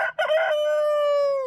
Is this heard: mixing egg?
no